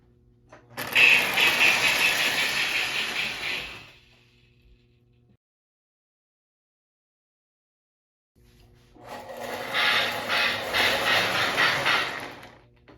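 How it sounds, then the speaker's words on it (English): A Lionel 8303 O gauge toy steam locomotive from 1973–74 rolls in with a rhythmic chuffing steam sound effect, heard in two loud bursts separated by several seconds of silence, close by with no talking. "As you heard when it rolled in, it has the Mighty Sound of Steam."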